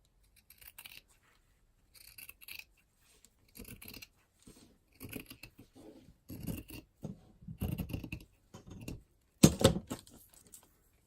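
Scissors cutting through the factory edge of fabric for a handmade journal cover, a series of short crisp snips and rasping slices in separate bursts, close and fairly quiet, growing denser toward the end.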